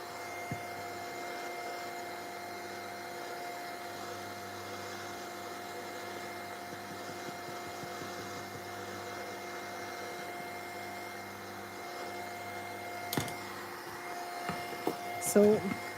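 Hair dryer blowing steadily to dry a dark paper collage coated in black gesso, a constant close whir running throughout with a few small knocks and handling sounds near the end.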